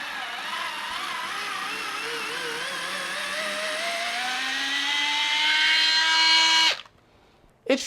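A FANTTIK NEX L1 PRO electric screwdriver backs a screw out with a loud, steady motor whir that sags in pitch under load for about seven seconds, then stops abruptly, followed by a brief final burst.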